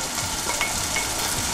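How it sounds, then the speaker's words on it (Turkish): Green beans sizzle and fry in a pot for a bean soup, a dense continuous crackling hiss with a faint stirring scrape, close and even throughout. "Fasulyelerimiz efendim tencereye girdiler şu anda. Kavrulacaklar."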